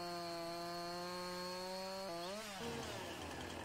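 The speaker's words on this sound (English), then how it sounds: "you guys can see the chainsaw is a bit different as well" A chainsaw in the Farming Simulator 19 game cuts low through a tree trunk with a steady, droning whine, then bogs and drops in pitch as the cut finishes.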